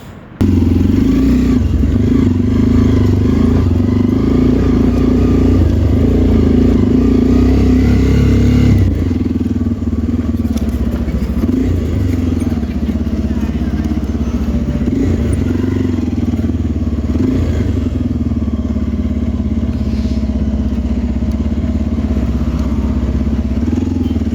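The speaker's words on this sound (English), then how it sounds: "let's jump on the bikes, and we are off" Motorcycles ride off through Choma toward Kalomo, Zambia, their engines droning loud and steady close by, with a drop in intensity around nine seconds as the ride settles into cruising.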